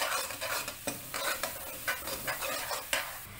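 A spoon stirs cumin seeds in a hot pan with a steady scraping rhythm over a light sizzle of frying, close and moderately loud, with no speech.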